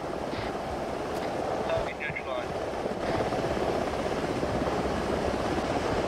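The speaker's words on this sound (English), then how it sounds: "Everyone get on the chopper." Helicopter arriving for an evacuation in a combat video game, a steady loud rotor drone with wind-like rumble filling the scene, voices briefly calling over it.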